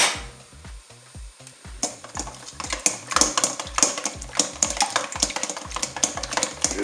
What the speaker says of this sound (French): On va battre les œufs.